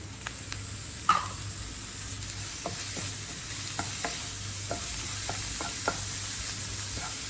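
Chillies and curry leaves fry in hot oil for a chicken fry, a steady crackling sizzle close by, broken by intermittent clinks and scrapes of stirring and one louder knock early on.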